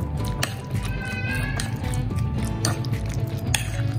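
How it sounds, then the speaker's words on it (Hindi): Marinade spices are stirred into food in a bowl, with close, wet squishing and scraping and light clinks of utensil against the bowl, steady and busy throughout. "इसको भी आप अच्छी तरह से मिक्स कर लें।"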